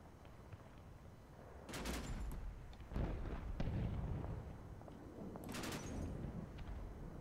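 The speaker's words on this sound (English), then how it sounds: "What are you firing, the 50 cal?" A .50 cal machine gun firing in the war game Combat Mission Black Sea: distant, muffled bursts of heavy gunfire and booms over a steady battlefield rumble, a couple of sharper crackling volleys standing out.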